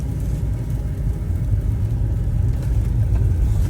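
A car pulls out through about ten inches of deep snow on worn, not-fresh tires during a Philly blizzard, its engine a steady, close, low rumble with no talking.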